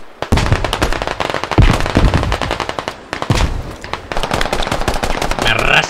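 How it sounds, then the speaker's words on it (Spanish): Gunfire in the video game Squad, loud close bursts of rapid automatic fire in several rattling strings separated by short gaps, with a voice talking over part of it. "tírate al suelo, que me disparan."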